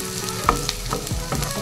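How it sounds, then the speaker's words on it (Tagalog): Sliced red onion hits hot oil in a pan for a chicken afritada, sizzling steadily while a utensil stirs and scrapes in a few soft knocks, close up and with no talking. "Yan, gisa-gisa lang."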